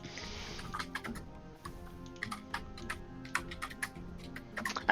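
Irregular clicking of typing on a computer keyboard, with sparse key taps that grow busier toward the end, heard close but fairly soft over a faint steady hum.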